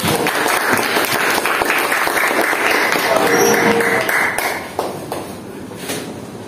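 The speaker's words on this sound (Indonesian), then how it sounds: "Oke, berikan tepuk tangan dulu dong buat kelompok satu." A classroom of students claps for group one, a dense burst of applause that fades out toward the end.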